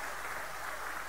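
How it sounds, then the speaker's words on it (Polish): At a youth gathering concert led by a priest in Wołczyn, an audience claps in a brief, steady wash of applause heard from a distance. "wielkie brawa"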